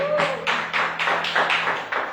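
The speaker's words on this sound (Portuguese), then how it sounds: "glória a Deus, aplausos ao Senhor." A church congregation claps together in a steady, even rhythm of about four claps per second, close and fairly loud, over a low sustained musical tone.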